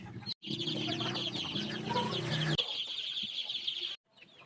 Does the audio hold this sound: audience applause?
no